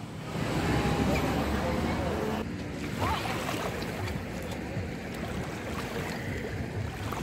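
Waves wash onto a crowded central beach on the Black Sea, a steady broad surf hiss with a brief surge partway through, faint voices in the background.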